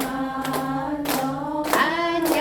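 A group of seniors in a recreation class claps in short, sharp bursts, a few distinct claps spaced unevenly over about two seconds against a steady tonal background.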